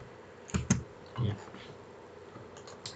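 Computer keyboard keys click in a few short, close bursts during copying and pasting in training work, with quiet gaps between presses.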